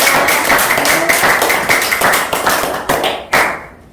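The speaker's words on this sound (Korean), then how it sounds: "같이 우리가 한번 박수 세게 쳐요." A room of people at a theology seminar clapping hard on cue, brisk, loud overlapping hand claps close by that keep going before stopping abruptly.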